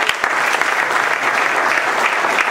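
An audience claps at a live show, dense and loud close-up applause that runs evenly the whole time without a break.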